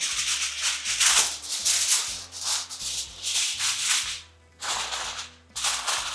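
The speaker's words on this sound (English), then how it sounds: "Now we're going to cover this with this extra wide aluminum foil." Extra-wide aluminum foil crinkles and rustles in repeated close bursts as it is pulled over a Persian crispy rice dish, with one short pause before the handling resumes.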